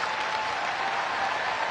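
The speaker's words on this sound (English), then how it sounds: "The fans getting the clap together for Bill" A full-capacity crowd at a Savannah Bananas versus Party Animals baseball game in Columbus, Ohio, clapping steadily for an injured player, a dense, even wash of applause with no break.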